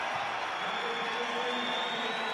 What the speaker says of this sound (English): Crowd rising to their feet now.